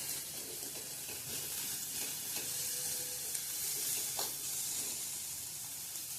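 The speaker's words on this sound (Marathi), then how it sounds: "कांदा भाजत आलाय त्यातच आपण टोमॅटो टाकून भाजून घेऊया।" Onion fries in oil in a pan for a Malvani-style prawn curry, giving a steady close sizzle with occasional stirring scrapes and light clinks throughout, with no voices.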